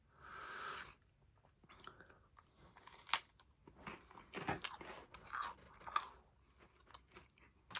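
A cracker from a Russian IRP military ration is bitten and chewed up close, giving sharp crunches followed by softer, irregular chewing sounds, quiet and without talk.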